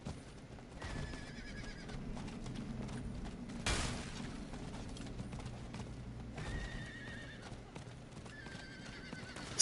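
A mounted horse in Diablo IV clip-clops along in steady hoofbeats, with several sharp neighs and whinnies rising over the gallop and a brief burst of noise in the middle.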